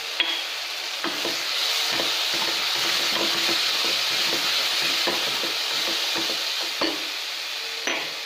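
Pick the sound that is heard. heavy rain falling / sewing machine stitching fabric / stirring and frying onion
stirring and frying onion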